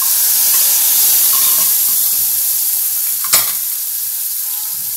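Tomato pieces sizzling in a hot pan, a loud continuous hiss with one brief clink partway through, gradually easing, no talk.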